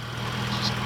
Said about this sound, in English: this is one of the sweetest idling Ecotechs I've ever heard in my life